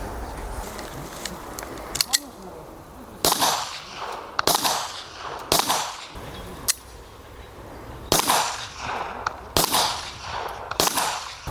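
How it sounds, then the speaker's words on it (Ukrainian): Sharp gunshots crack out one after another at irregular intervals at a police practical shooting competition, loud and close, with quieter background noise and a faint voice between shots. "Другий постріл Чарлі, Чарлі."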